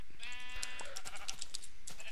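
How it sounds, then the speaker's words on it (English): A sheep in the Minecraft video game bleats once while being punched, followed by a string of short sharp hit and click sounds close up. "I'm punching sheep."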